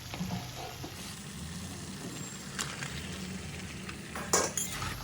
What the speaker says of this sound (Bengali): দেখো মশলাটা কষে গেছে, তেল বেরিয়ে এসছে। এবার মেয়ে চিকেন দিয়ে দেবে এর মধ্যে।